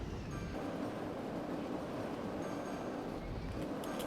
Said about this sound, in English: Let's just monitor this train for a little bit.